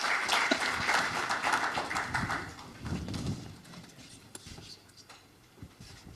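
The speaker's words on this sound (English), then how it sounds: "a round of applause for a very able panelist" An audience at a financial inclusion forum claps for a panelist, a brief burst of applause that thins out after a few seconds into scattered claps and room noise.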